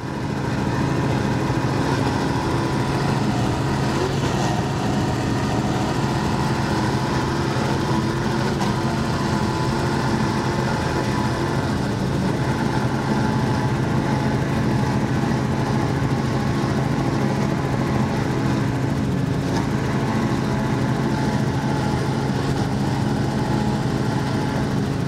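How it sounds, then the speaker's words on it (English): Mercury Racing 502 EFI engines on a 43-foot Scarab powerboat running offshore, a loud, steady, deep engine drone that holds constant and close throughout. "Let's listen in to these Mercury Racing 502 EFIs because they sound sweet."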